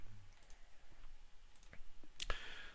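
Computer mouse clicks while drawing a custom scribble motion path in Adobe Captivate, a handful of quiet, close, irregularly spaced clicks with one louder double click near the end over faint room hiss.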